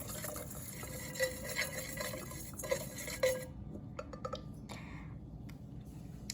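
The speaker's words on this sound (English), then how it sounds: "Now we're gonna take a whisk and mix it all together" Whisk mixing stuffed mushroom filling in a bowl, soft wet stirring with light clinks against the bowl, quiet and close, fading into sparse taps near the end.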